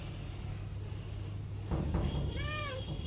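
Indoors, a cat gives a single clear meow near the end, rising and then falling, over a quiet low background hum with a brief rustle just before it.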